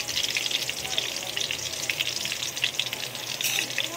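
Chicken gizzards frying in a pan with sautéed aromatics for Filipino adobo give a steady, close sizzle that stays even and loud from start to finish, with no talking.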